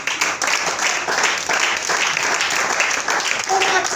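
A church congregation bursts into sustained, loud applause at a worship service, the clapping dense and continuous throughout, with voices mixed into the crowd noise.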